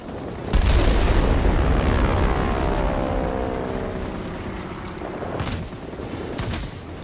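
30mm cannon fire and explosions in World of Warplanes, a sudden heavy boom followed by a dense rumbling rattle that slowly fades, with a second burst near the end, loud and without talking.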